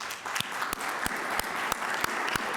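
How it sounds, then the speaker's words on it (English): A modest crowd at a Monroe County Democratic Party City Council District 5 caucus gives a round of applause. Soft, steady clapping carries a few louder, evenly spaced claps from someone close by. "Please join me in thanking the candidates and the new member of council with a round of applause."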